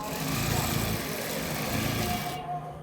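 Sewing machine stitching a salwar, a continuous rapid mechanical whir close up that cuts off abruptly near the end.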